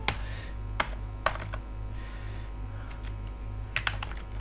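Typing text into Photoshop on a computer keyboard, with short bursts of close, crisp key clicks over a low, steady hum, and no voices.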